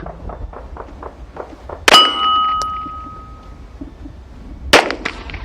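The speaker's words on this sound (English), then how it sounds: "shooting the Rock Island in 9mm now" Two sharp, loud reports from a Rock Island 1911 handgun chambered in 9mm, spaced about three seconds apart. The first shot rings with a metallic clang that trails off, and nothing else is heard between the shots.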